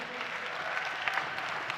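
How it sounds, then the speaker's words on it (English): Crowd at a Black graduation celebration applauding, an even, continuous patter of many clapping hands at moderate loudness with no pauses. "A round of applause to all of you."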